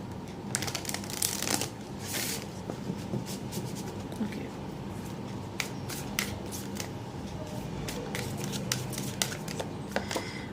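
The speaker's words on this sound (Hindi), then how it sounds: "okay, let me shuffle" A tarot card deck is shuffled by hand, giving repeated quick riffles and flicks of the cards, close and crisp, spread irregularly throughout with no talking.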